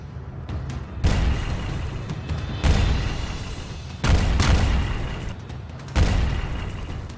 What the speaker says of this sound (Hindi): ज़ेलेंस्की ने अमेरिका से मिली M777 तोप दिखाई कि कैसे उसके धमाकों ने रूस की सेना के पैर उखाड़ने शुरू कर दिए हैं